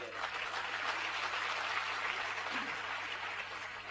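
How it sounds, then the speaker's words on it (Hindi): Audience applause at a business event celebrating a husband-and-wife team, a faint, steady spread of many hands clapping heard from a distance for several seconds. "तो उसके लिए एक जोरदार तालियां हो जाए।"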